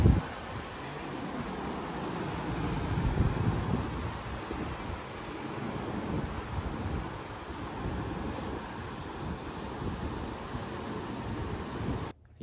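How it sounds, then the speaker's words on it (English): Steady wind rushes outside on a sunny day, a broad continuous roar of buffeting wind noise across the microphone, fairly loud and even throughout with no talking. "It's a little windy outside, but it's sunny."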